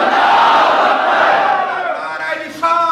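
A large crowd at an Urdu religious gathering chants the Nara-e-Takbeer slogan in loud unison, a roaring collective shout that swells and then gives way to a fresh burst of voices.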